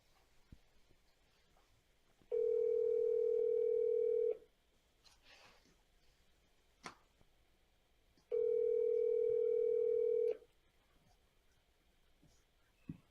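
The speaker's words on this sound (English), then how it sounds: "Let's call Brad and let him know that he won." A phone call rings out over speakerphone: two long, steady ringback tones of about two seconds each, separated by a pause, heard clearly above faint background noise.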